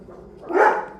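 A single dog bark rings out at moderate loudness in a home, short and sharp over a quiet background.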